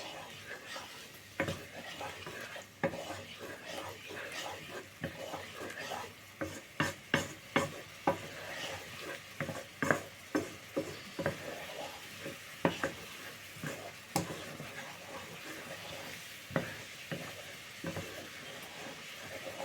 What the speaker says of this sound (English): meanwhile it's sizzling, you just turn it down to a lower temperature so it doesn't burn